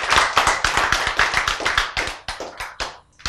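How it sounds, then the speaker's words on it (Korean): An audience at a Christian sermon claps together, a steady run of sharp, close hand claps that thins out toward the end, with no talk over it. "박수"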